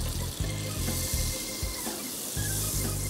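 Butter and oil sizzle in a pan while macaroni is cooked, a steady, close frying hiss running throughout beneath a low, tonal background hum.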